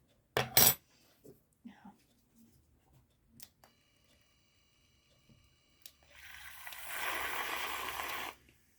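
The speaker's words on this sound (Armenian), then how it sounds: "Հիմա այս ամենը փորձենք մենք հարիչով անել" A whisk beats collagen drink concentrate in a container, with a few sharp clinks of metal on the vessel, then a sustained brisk, swishing whisking burst near the end, close and fairly loud.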